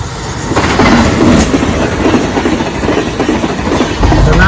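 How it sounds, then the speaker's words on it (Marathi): A fast train roars past close by, loud steady rumble with clickety-clack of wheels throughout. "इथं पण ट्रेन आहे या साईडला पण ट्रेन आहे आणि त्या त्या साईड एवढी फास्ट आले बघा"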